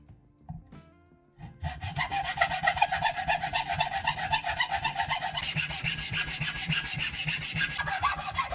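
Hand saw cutting an angled face into a wood block for a chisel-sharpening guide, with a few light scrapes and then steady rapid rhythmic rasping strokes, close and continuous.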